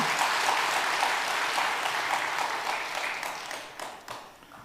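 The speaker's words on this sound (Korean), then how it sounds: "여기서 박수 쳐야 돼." A church congregation at Songchon Presbyterian Church applauds during a sermon, many hands clapping together in a full, even roar that gradually thins and fades near the end.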